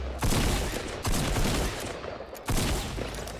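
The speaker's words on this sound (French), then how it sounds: "je panique, je tire un peu partout, mais sans le toucher" Gunfire in the Fortnite Battle Royale video game: three loud bursts of rapid shots, each beginning sharply and trailing into dense crackling, with no voices heard.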